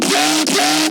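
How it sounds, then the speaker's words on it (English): A synthesized girl vocal filler from a hybrid trap remix, a short, loud, pitched tone that bends and slides in the middle before cutting off. "this girl filler is different from the other one"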